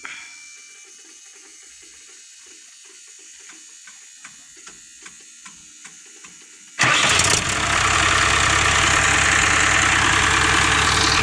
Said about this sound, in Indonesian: Nah, di sini mesinnya sudah hidup ya